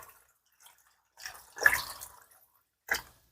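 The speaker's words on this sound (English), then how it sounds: "Next, we're going to add some water" Water being poured into a pressure cooker, a few short splashing bursts separated by quiet gaps, close and fairly soft.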